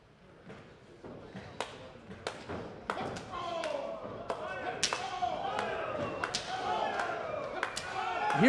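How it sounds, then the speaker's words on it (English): Sharp open-hand chops land in a wrestling ring, a string of loud slapping cracks at uneven intervals amid crowd noise and commentary talk. "Huge chops there."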